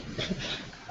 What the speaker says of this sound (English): And my apologies for the dogs.